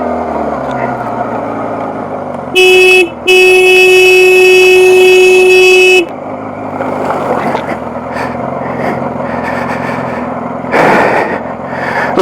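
A Honda CBR600 F2 motorcycle ridden off-road in the Spanish Pyrenees is held at full RPM, giving a loud, sustained high-pitched scream that lasts a few seconds over the rough rumble and wind of the ride.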